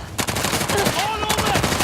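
Rapid automatic gunfire in the video game Uncharted: The Lost Legacy, a dense, loud burst of overlapping shots with whizzing ricochet tones, lasting under two seconds.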